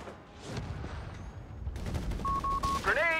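Machine gun fire in the strategy video game Company of Heroes 3, a bursty, crackling rattle mixed with other battlefield effects and short electronic tones, under ongoing commentary.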